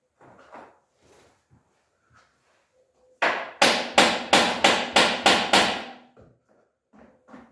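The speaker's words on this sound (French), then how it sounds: "c'est un coup de marteau." Six sharp metallic hammer blows ring out in a quick, even series as a gearbox crossmember is knocked into alignment on a 2007 Touareg V10 Phase 2 drivetrain reassembly, with faint voices before and after.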